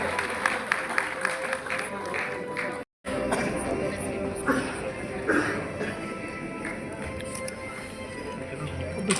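Audience at a women's honour ceremony applauding to welcome a singer, a steady moderate patter of clapping mixed with crowd chatter, with one brief dropout.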